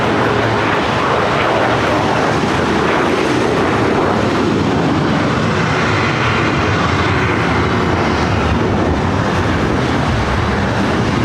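A British Airways jet taxis and turns toward the Tom Bradley gates at LAX in challenging weather, producing a loud, continuous engine roar and rumble close by, with no talk.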